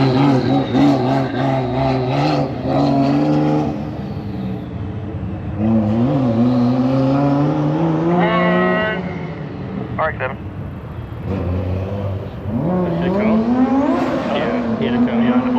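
A Honda Fit's engine revs loudly and repeatedly during an autocross run, rising through the gears with brief lifts between pulls, while a person talks over it from inside the car.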